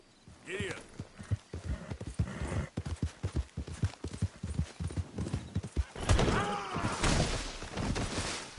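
A horse ridden in Red Dead Redemption 2 gallops with rapid, loud hoofbeats close by, a whinny breaking through near the start, and a rush of louder movement and wind toward the end; someone talks briefly over it.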